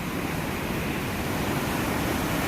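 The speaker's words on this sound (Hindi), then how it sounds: "खतरनाक खतरनाक पानी का फ्लो" Dangerous water rushes in a dense, continuous roar from an open dam gate, loud and broadband with no pauses, like heavy surf or a waterfall close by.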